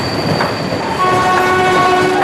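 An Indian railway train passing through a tunnel, a loud rolling rumble with sustained horn tones and a faint rhythmic clatter of wheels on track.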